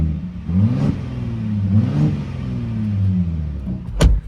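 Twin-turbo V6 of a 2025 Ford Raptor with active exhaust revving in a few rising and falling pulls, deep, rumbling and fairly loud, heard from behind the truck with a sharp transient near the end.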